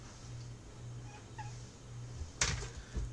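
A cat passing by gives a few short, faint meows in the background during an indoor exercise session, followed by a louder burst of rustling and movement near the end.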